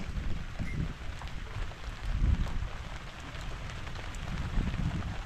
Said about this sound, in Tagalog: Ayan na ang ulan.